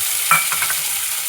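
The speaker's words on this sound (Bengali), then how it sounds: "এবার এতে দিয়ে দেবো টমেটো কুচি" Chopped tomato drops into frying onions in a pan, a soft sizzle swelling briefly as the pieces go in and are stirred, with no voices.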